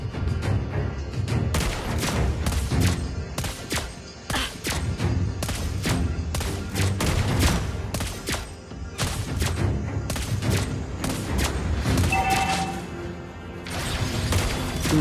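Rapid, repeated gunshots from shooting practice crack out in dense volleys over a steady bed of background music, the impacts close and loud throughout.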